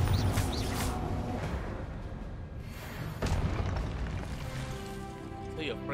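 A Confringo fire spell erupts in Hogwarts Legacy, a short sharp blast with a burst of crackling rush, among other spell impacts and thuds over a steady game background, with a voice speaking.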